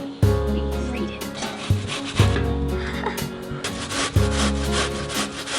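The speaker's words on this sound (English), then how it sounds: "let's cut off the ends, then we grate it" An onion is grated by hand for chicken tagine, producing rhythmic rasping strokes, four or five close scraping passes with a coarse, grinding texture and no talk.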